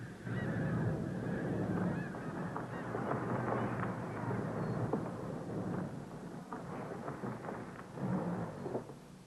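About two hundred snow geese and blue geese, trapped under a net, honk in a dense, overlapping clamor that stays loud and close throughout, swelling again near the end.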